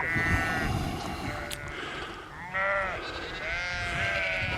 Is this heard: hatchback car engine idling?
no